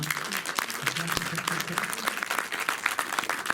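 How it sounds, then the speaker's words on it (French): An audience at a talk event applauds with dense, continuous clapping from a crowd, and faint voices can be heard underneath. "On va l'applaudir encore."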